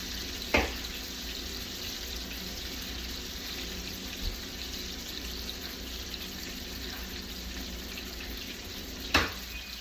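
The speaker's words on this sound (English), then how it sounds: "I'm going to throw a little bit more butter in there. And I'm going to start to baste." Pan-fried pork chops sizzle steadily in browned butter while being basted, a constant close hiss and crackle with two sharp clanks of a spoon against the pan, with no talking.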